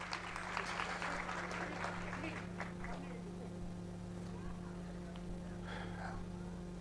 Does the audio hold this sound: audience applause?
yes